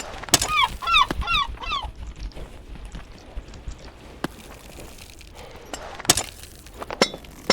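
A bird in a climbing video game gives a quick series of honking calls near the start, followed by scattered clicks and thuds of in-game movement, with no talking.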